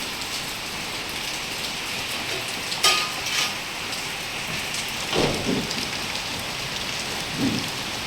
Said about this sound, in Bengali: এই জোর বৃষ্টিটা হচ্ছে প্রায় দুপুর থেকে 2টো নাগাদ, 2টো আড়াইটা থেকে বৃষ্টি শুরু হয়েছে